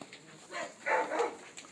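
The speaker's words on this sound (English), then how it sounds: "Dogs are barking." Several dogs bark in a short cluster of two or three muffled woofs, moderately close, over light background noise.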